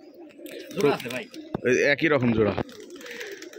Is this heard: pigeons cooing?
yes